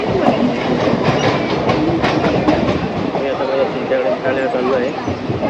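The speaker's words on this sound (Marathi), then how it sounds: "नवीनच ट्रेनचा प्रवास करतो आहे" A train rumbles along the rails with rhythmic clattering, loud and close from inside a carriage, with voices chattering over it.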